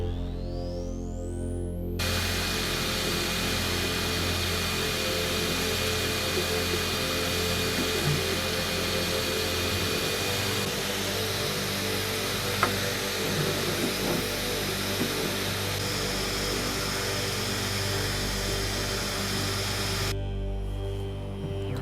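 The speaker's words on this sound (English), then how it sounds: "I'll send this across to the printer and we'll start getting it printed out." A 3D printer runs through a print job for a Batman portrait, giving a steady, continuous mechanical whir with whining stepper tones, fairly close and unbroken for most of the stretch, with no talking.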